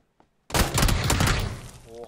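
A burst of UMP submachine gun fire in PUBG crashes in suddenly after near silence, loud and dense for over a second before tailing off, with a short voice sound at the end.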